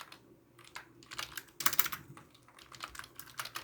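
Code is typed on a computer keyboard in uneven bursts of close, crisp key clicks, with a dense flurry in the middle and scattered taps around it.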